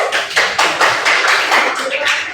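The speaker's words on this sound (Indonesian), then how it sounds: "tepuk tangan dulu" A junior high school class in Purwokerto, Indonesia, claps for a student in loud, close, rhythmic bursts, with several children's voices mixed in among the claps.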